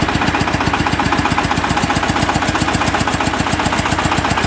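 A Shifeng SF240 walk-behind tractor engine running close by, a loud steady rapid chugging throb with no voices.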